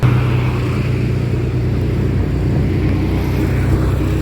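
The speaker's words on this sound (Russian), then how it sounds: "На этой прекрасной тачке подъезжаем к дому." A car carries passengers up to a house in Cairo, its engine and road noise making a steady, loud, low rumble throughout with no talk.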